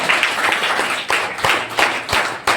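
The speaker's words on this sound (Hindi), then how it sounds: "एक बार जोरदार तालियां हो जाए।" An audience at a writing competition prize announcement claps, a loose, uneven burst of hand claps with distinct individual slaps standing out, fairly close and loud, without speech over it.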